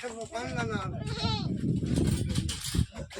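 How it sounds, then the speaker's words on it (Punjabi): A goat bleats several times close by at a Punjabi goat market, its wavering cries mixed with people talking nearby. "ਬੱਕਰੀ ਆ ਇਹ"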